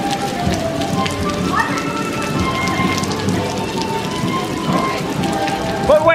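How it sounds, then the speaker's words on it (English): Steady rain falls and patters on surfaces at an amusement park, a dense continuous hiss with scattered drips, with no talking. "the rain's just about starting to stop"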